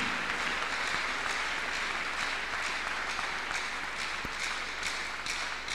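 A church congregation at a Tuesday miracle service claps their hands steadily and densely, a continuous roar of applause that lasts throughout.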